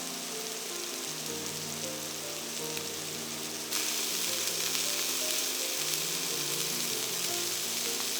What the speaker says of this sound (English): Fry all the patties till they are brown at the bottom.